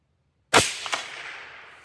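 A single sharp rifle shot fired during load testing rings out close and loud, then trails off in a decaying echo with a faint secondary crack.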